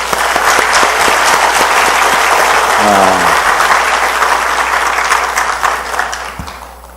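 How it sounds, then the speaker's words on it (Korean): A church congregation breaks into loud, sustained applause giving glory to God, dense clapping filling the room before tapering off at the end. "우리 하나님께 영광과 찬양과 경배의 박수를 한번 올려드리면 좋겠습니다."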